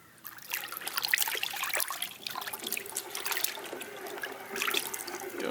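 Water sloshes and trickles in a bucket as Optimum No Rinse car wash solution is stirred in by hand, a close, steady swirling splash with brief surges and no talking.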